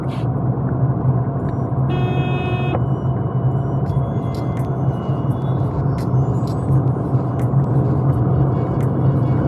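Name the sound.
tire noise inside moving car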